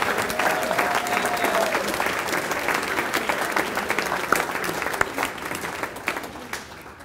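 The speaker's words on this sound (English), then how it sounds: "Big round of applause for all these award winners." A banquet crowd at a senior awards dinner claps for award winners, dense sustained applause that holds steady for several seconds and then tapers off.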